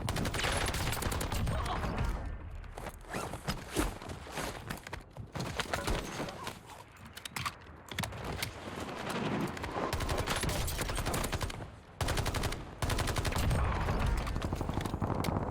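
Rifle fire from an ABR in the Warzone video game, dense and continuous bursts of shots mixed with other battlefield noise throughout, loud and close with hardly a pause.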